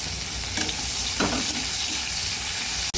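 Onion and chopped tomato frying in oil in a wok (kadai), with a steady loud sizzle throughout and faint stirring scrapes.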